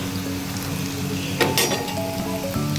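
Chicken nuggets fry in hot oil with a steady, close crackling sizzle. A brief burst of louder spitting comes midway, and a faint hum of kitchen noise sits underneath.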